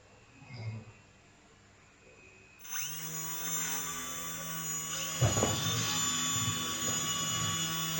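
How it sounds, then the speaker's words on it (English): A small electric motor in a degree project mechanism starts up at about 2.7 seconds and runs with a steady whine, lifting a part to a set angle. The sound is moderately loud and continuous, with a brief thump midway and no talk. "this is the motor lifted up to the desired angle that we want"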